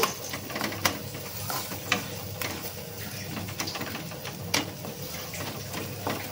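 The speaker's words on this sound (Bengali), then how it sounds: "তেলের মধ্যে এটাকে নাড়াচাড়া করে নিলে আমাদের রেডি হয়ে যাবে শিম ভর্তা" Mashed flat bean paste for shim vorta is stirred in hot oil, with a soft low sizzle under irregular scraping and tapping clicks from the utensil. The sound is quiet and close, and no one speaks.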